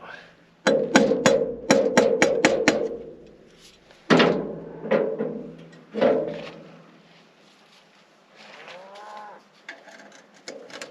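Light, quick taps land on a part of a LeTourneau Tournapull scraper during an engine service, in a rapid run of sharp knocks followed by a few scattered louder strikes and metallic clunks.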